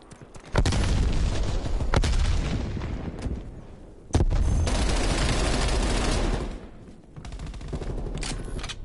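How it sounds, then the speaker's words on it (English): Frag grenade blasts ring out in a Black Ops Cold War multiplayer match, loud booming bursts set among dense, sustained gunfire, with heavy impacts near the start and again around the middle. "Sending frag grenade."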